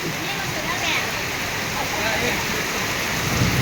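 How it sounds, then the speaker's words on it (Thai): Steady rain pours down over an outdoor village market in Thailand, a dense, even hiss that runs close and continuous throughout, with faint voices murmuring underneath. "ฝนก็ตกฝนก็ตก"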